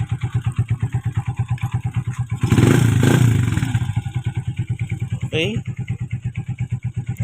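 A Honda TMX Alpha motorcycle engine, treated with oil metal treatment, idles close up with a fast, even pulsing chug, briefly swells with a short throttle blip, and a voice speaks once over it.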